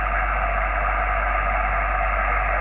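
Steady hiss of radio static and band noise from a Yaesu FT847 amateur radio receiver with the RF amp off, a constant broadband rush with no speech.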